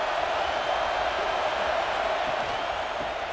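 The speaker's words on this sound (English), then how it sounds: "This crowd ready to make its presence known." Stadium crowd in the college football video game EA College Football 26, a steady, dense roar of many voices filling the space evenly throughout, with no distinct cheers or individual speech standing out.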